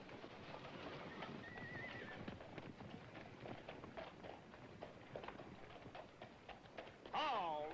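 Hooves clop steadily beneath murmuring voices at a horse sale in the TV western Bonanza, then a horse lets out a loud whinny near the end.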